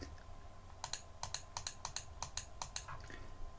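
Computer keyboard keys click in a quick irregular series of about a dozen sharp taps, close and clear, with no talking over them, while spreadsheet columns are selected with the control key held down.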